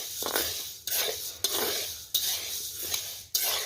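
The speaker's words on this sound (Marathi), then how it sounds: "फक्त चमच्याच्या सहाय्याने हलवत असे उडीद भाजून घ्यायची आहे" Urad lentils dry-roast in a pan over low heat while a spoon stirs them in repeated rattling, scraping sweeps, a gentle rustle of grains between each pass.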